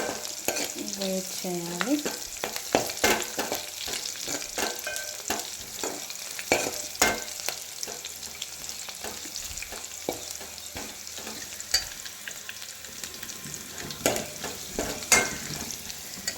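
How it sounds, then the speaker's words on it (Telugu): Onions and spices sizzle and crackle in a pan over a medium flame, a continuous hiss broken by repeated stirring scrapes, with a few brief words spoken. "ఇవి కూడా వేసి మీడియం ఫ్లేమ్లో కొంచెం ఇలా కొంచెం ఆనియన్ బ్రౌనిష్ కలర్లో వచ్చేంత వరకు"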